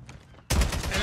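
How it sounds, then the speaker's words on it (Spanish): A burst of rapid gunfire in the mobile shooter game Call of Duty Mobile, erupting suddenly halfway through and continuing as loud, dense automatic fire after a quieter lead-in. "Le di como 2 tiros a Moon"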